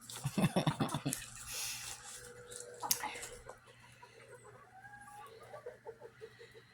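Young pullet hens clucking near a coop, a burst of close, rapid clucks at the start followed by softer, scattered calls and low rustling in the background.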